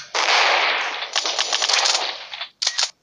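Rapid automatic gunfire in the mobile game Mini Militia, a dense rattling burst of about two and a half seconds followed by a short second burst, loud and close with no talking.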